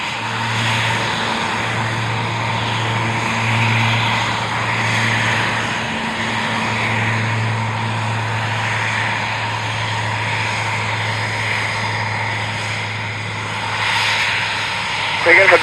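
Aircraft Aviator 06 taking off from runway 20 at an airshow, its engine a steady loud drone with a low hum that swells near the end, while radio voices talk over it.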